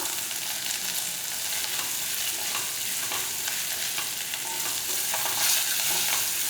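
Pirandai, adamant creeper, sautéed with salt in a pan for Tamil kulambu gives a steady close sizzle with soft stirring scrapes throughout, no voices.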